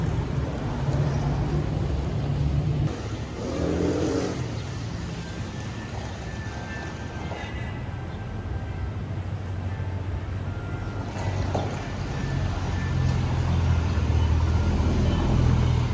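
Steady low rumble of a moving car's interior, road and engine noise constant and fairly loud throughout with faint wind hiss and no talking.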